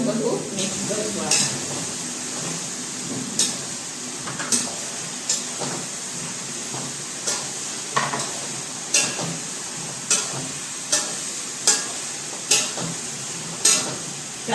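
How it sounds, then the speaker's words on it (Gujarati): Dal is stirred into cooking tomatoes in a pot, giving a run of regular spoon knocks against the metal over a soft sizzle, about one tap every second, close and clear. "તો હવે આપણે એમાં નાખી દઈશું દાળ. હવે આ બાજુ બધું મિક્સ કરશું."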